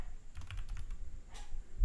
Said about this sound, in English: Just hit enter once on your keyboard.